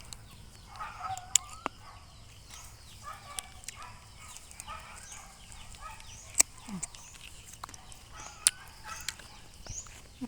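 Quiet farmyard scene with chickens clucking softly and occasional sharp flaps of wings, scattered over a faint, steady background.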